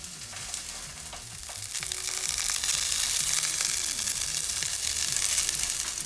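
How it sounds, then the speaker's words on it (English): Ahi tuna steaks sear lightly in a hot pan, giving a steady, close sizzle and crackle that swells louder partway through and holds, with no talking. "we're going for a very light external sear"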